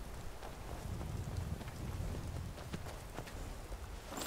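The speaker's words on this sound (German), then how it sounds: "Wo kommen denn die ganzen Pferde her?" Hooves clip-clopping steadily on the ground, several horses close by in the video game Skyrim, with a soft windy background and no talking.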